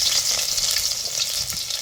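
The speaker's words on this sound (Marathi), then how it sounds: "एक पळी तेल फोडणीसाठी ओतायचं फोडणीसाठी एक चमचा मोहरी टाकायची एक चमचा जिरं थोडासा लसूण" Mustard seeds, cumin and a little garlic sizzle loudly in a ladleful of hot tempering oil, a dense, continuous crackling hiss throughout with no voices.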